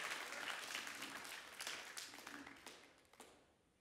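A church congregation claps their hands together, a quiet, fairly distant patter of many hands that fades out toward the end.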